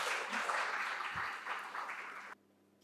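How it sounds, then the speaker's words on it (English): Audience applause at a university lecture felicitation ceremony, a steady dense wash of clapping that carries on for over two seconds, then cuts off abruptly into near silence. "Let's have a huge round of applause."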